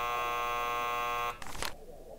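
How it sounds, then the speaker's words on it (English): A game's buzzer cue: a steady electric buzz with many harmonic tones sounds alone for over a second, then cuts off into a brief noisy burst and fades to quiet. "Oh, the buzzer."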